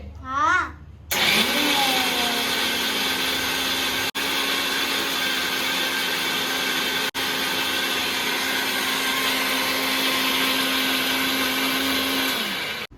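After a brief voice, a mixer grinder grinding chutney roars into a loud, steady whirring drone that runs for many seconds with two tiny breaks.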